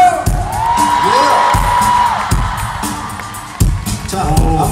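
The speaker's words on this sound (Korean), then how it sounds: "박수 주세요!" Concert crowd at an Asia Tour show in Hong Kong, a dense and loud wash of cheering, whoops and shrill shouts that holds steady throughout, with a few sharper bursts of noise.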